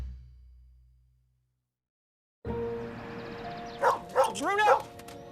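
A dog in a Nissan Rogue commercial gives a quick series of about three sharp barks over a soft musical bed, which starts after a brief stretch of near silence.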